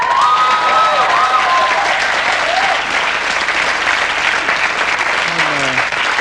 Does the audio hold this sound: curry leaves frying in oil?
no